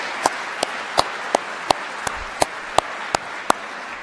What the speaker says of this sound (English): I'd like to have a round of applause for our litigants today